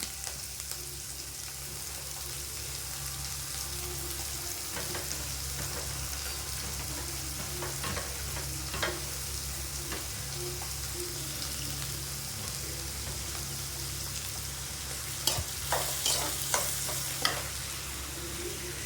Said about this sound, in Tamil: வெங்காயமும் பச்சை மிளகாயும் போட்டுறேன்